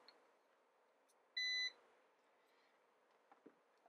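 A short electronic chirp-beep from a Kaiweets multimeter in diode mode, a single clear tone lasting about a third of a second, over a quiet background with faint handling noise.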